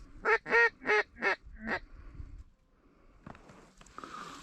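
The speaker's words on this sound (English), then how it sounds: "We got a line of geese coming over the trees too." A flock of geese flying over trees on an Alberta waterfowl hunt gives five loud, evenly spaced honks close by, followed by quieter rustling and scattered fainter calls.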